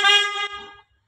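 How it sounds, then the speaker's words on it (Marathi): A stock Yamaha RX100 motorcycle horn sounds once in a single bright, steady tone, near and loud, holding for close to a second before cutting off into silence. "मला हॉर्नचा आवाज ऐकवतो"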